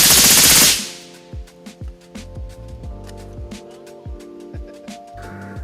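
Rapid fire from an AR-15 rifle with a Geissele trigger, 10.3-inch build: one loud blast at the start, then a fast run of sharp, close shots with echoing decay.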